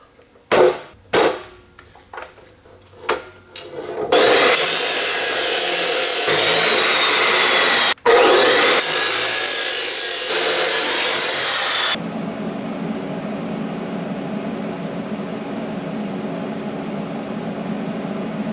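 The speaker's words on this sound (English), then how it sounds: "Finished welding that up." MIG welding on aluminized pipes in a home garage: a few light taps, then two long, loud, steady crackling buzzes split by a brief pause, followed by a lower lingering hum.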